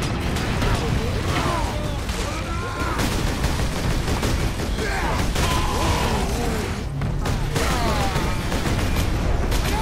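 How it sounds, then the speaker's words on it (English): Grenades exploding amid dense gunfire in the Space Marine video game, rapid bursts of shots and booms packed tightly in a loud, continuous battle din, with voices mixed into the chaos. "Grenades!"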